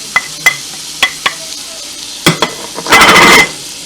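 Shallots drop into a hot pan for a Guyanese hassar curry, with a few sharp utensil taps against the pan followed by a short burst of loud sizzling near the end.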